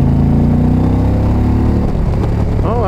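A 2020 Indian Challenger motorcycle engine runs loud and close while riding, a throaty steady rumble that eases slightly as the bike slows into a corner.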